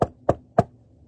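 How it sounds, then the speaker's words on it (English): Three evenly spaced knocks rap on a door, each short and solid, close and clear against silence. "soon was knocking at the weatherman's door"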